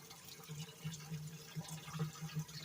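Acid poured from a gallon jug into a container, a faint steady stream of liquid with soft gurgling and trickling, heard close but quiet.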